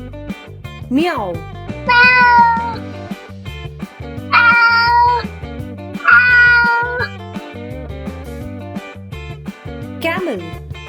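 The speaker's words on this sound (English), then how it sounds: "Cat" Three clear meows from a cat, each a short rising-falling cry spaced a couple of seconds apart, loud and close over a continuous music backing.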